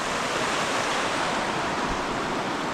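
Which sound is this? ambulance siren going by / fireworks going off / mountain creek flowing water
mountain creek flowing water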